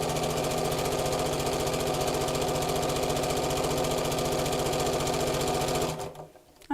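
A sewing machine stitches a fabric tote bag made from fat quarters, running steadily with a fast, even mechanical chatter, close and loud, then stopping abruptly near the end.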